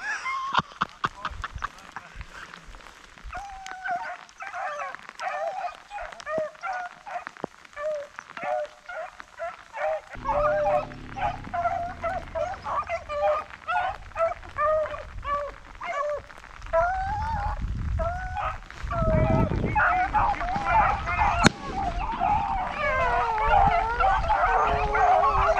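Hunting dogs on a rabbit hunt bark, yip and howl steadily in the rain, a dense chorus of mid-distance baying that rises toward the end, with a person's voice mixed in.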